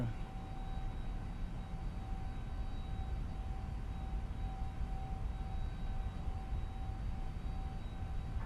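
Airbus A321neo engines spooling up for climb in a flight simulator, a steady broadband roar with faint tonal whines, fairly quiet and even throughout, with no talking.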